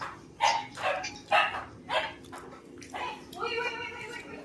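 A dog barks several times in short, evenly spaced bursts, fairly close, with faint voices and background noise underneath.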